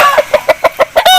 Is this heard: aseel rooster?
yes